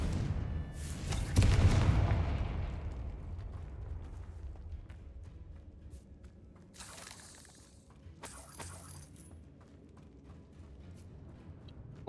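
A Confringo fire spell exploding in the game Hogwarts Legacy: one loud, near shattering boom with a deep rumbling tail that fades slowly, then quieter bursts of crackle and debris later, with no talking over it.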